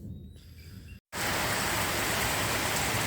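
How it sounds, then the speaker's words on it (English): Steady rain falls outside a workshop on a winter day, a dense, even hiss that holds loud and constant after a brief drop-out near the start, with quieter room tone before it. "it looks like we are in for a day of rain"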